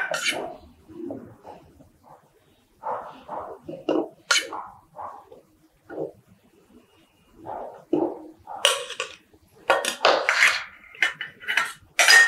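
Pieces of ash gourd dropped into a mixer jar in a home kitchen produce sparse clinks and clatters that build into a busier rattle of pieces hitting the jar near the end, with a voice speaking between sounds.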